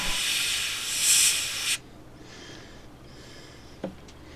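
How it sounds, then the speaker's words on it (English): A Harder & Steenbeck Infinity CR Plus 2-in-1 airbrush with a 0.15 needle sprays paint to post-shade the folds of a miniature's cloak. It gives a loud, steady, close hiss for under two seconds, then cuts off, leaving near silence with one faint click. "I'm just showing you how that I can get accurate post shading with this airbrush, adding some shadows to the folds of the cloak"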